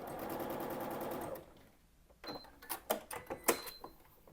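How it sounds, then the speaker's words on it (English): A sewing machine stitches a large fireworks quilt block in a steady, fast run, then stops, followed by light clicks and handling of the fabric. "when we're sewing on this line, again, you want to err on the side of sewing towards the center line"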